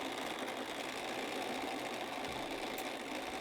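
A sewing machine stitching a half-inch seam on a pillow, a steady continuous whirring drone with no pauses, close and even.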